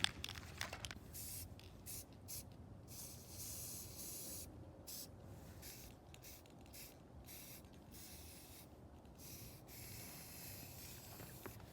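A can of silver spray paint hisses in several short bursts with brief pauses between them, faint and outdoors in cold weather, with no talking.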